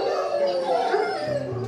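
Hunting hounds in a kennel howl and bay together, a loud overlapping chorus of drawn-out cries and yips heard up close, with no talking.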